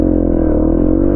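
Yamaha XTZ125 motorcycle pulling away in low gear, a steady loud single-cylinder engine drone with dense low harmonics running evenly through the whole moment, close and without voices.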